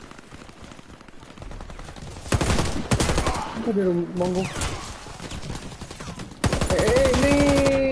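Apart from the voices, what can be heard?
gunfire in the video game Warface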